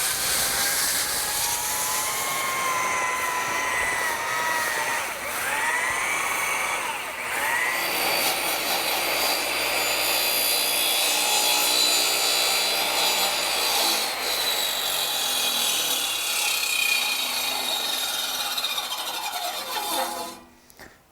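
An air-powered drum tool grinds and rasps across the end of a log being cut square for a log circle stairway, a loud continuous abrasive roar with shifting pitch that runs unbroken for about twenty seconds before cutting off.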